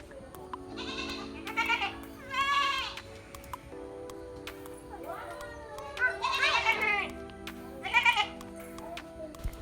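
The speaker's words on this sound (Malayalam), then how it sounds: "അപ്പോൾ അതാ ഇങ്ങനെ ആടിനെയൊക്കെ കണ്ടുകൊണ്ടിരിക്കുകയാണ്" Goats bleat repeatedly at a family home in Kerala, several wavering cries close by, with children's voices and chatter mixed in among the animals.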